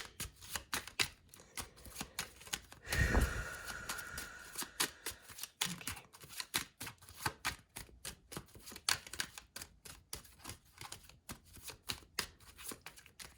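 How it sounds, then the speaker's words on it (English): Tarot cards are shuffled in a quiet room, a rapid series of soft riffling and tapping slaps that come in uneven bursts, with one fuller riffle partway through and no voices. "They want me to slow down how I'm shuffling these cards"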